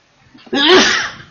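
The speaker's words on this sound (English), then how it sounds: "you can't help it when you sneeze." A single loud, close sneeze bursts out sharply after a brief inhale, then trails off quickly.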